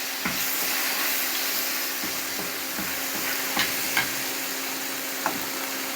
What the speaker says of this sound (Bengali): এটা আমি তরকারিটা ঢেলে দিলাম।